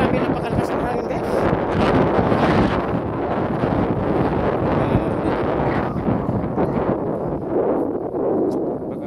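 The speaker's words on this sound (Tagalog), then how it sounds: "grabe, napakalakas ng hangin guys." Strong wind on Guam roars steadily across the microphone, a constant loud buffeting rumble with no pauses.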